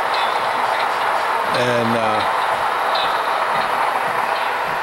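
A DCC-equipped model railroad locomotive with onboard sound, parked with an auto rack train on a siding at a club open house, hums steadily with a brief horn-like tone over a busy room, with people talking around it.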